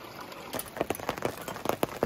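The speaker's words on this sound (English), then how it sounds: "So we're getting a little bit of a hailstorm, rainstorm" An outdoor hail and rain storm at a group campsite near a creek: scattered hard drops and pellets tap and patter irregularly at close range, thickening after a quieter first half-second, with no voices.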